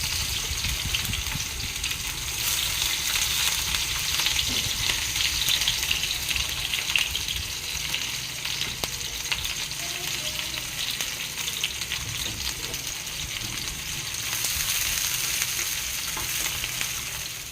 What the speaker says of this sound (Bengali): প্রথমে আমি পেঁয়াজটা দিয়ে দেবো।